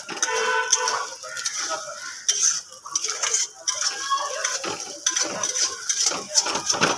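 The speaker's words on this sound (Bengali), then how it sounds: "ডিমটাকে আমি ভালোভাবে নাড়াবো" Beaten egg with a pinch of salt being stirred in a bowl, a run of quick light clinks and scrapes of utensil against the dish, close and continuous.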